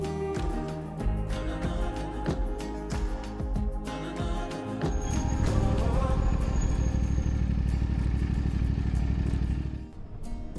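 A CFMOTO 450MT motorcycle riding along a highway near Goulburn toward Sydney, its engine a steady loud drone with a gear change and rising rumble, heard close up.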